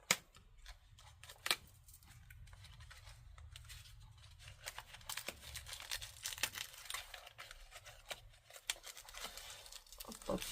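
A plastic-wrapped box of incense sticks being opened: quiet crinkling, tearing and rustling of the plastic wrap, with a few sharper clicks and handling noises, up close and without talk.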